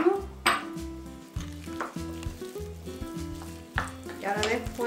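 Chopped onion and carrot sizzle in a pan for a chicken gyoza filling while a utensil stirs them with repeated scraping clatters against the pan, all under background music.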